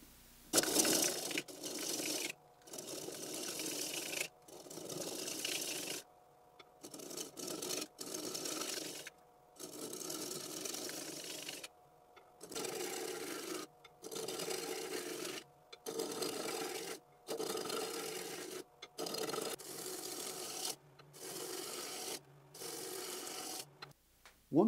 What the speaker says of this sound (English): So I've got the butternut on the lathe now. I'm going to go ahead and true it up